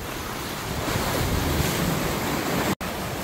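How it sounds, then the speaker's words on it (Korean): Heavy sea waves crash continuously on the shore near Ayajin on a rainy, overcast day, a loud unbroken roar of surf mixed with wind buffeting the microphone, with a brief dropout near the end. "파도가 많이 쳐가지고요"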